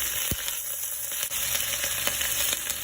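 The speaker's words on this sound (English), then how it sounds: "Some dried red chilies, and sprinkle in some hing or asafoetida before giving it a quick stir." Dried red chilies and asafoetida crackle and sizzle steadily in hot ghee, a dense continuous frying hiss broken by a few sharp pops and light stirring scrapes, close and alone without voices.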